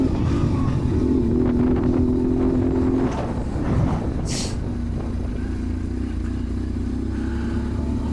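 A BMW GS Adventure motorcycle cruises on the road, its engine a steady low rumble beneath heavy wind roar, with a brief rising rev early on and a constant, close drone throughout.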